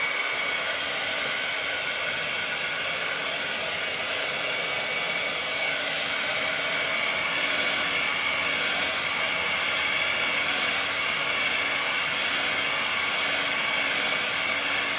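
A hair dryer drying fresh paint on a DIY gradient patina piece, a loud steady whirring blow that holds an even pitch for the whole stretch without pause.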